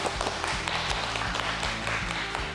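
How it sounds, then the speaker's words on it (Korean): Studio audience applause rises as a brief, moderately faint patter of clapping, heard beneath steady low musical tones that continue throughout. "그럴 때는 박수가 나옵니다."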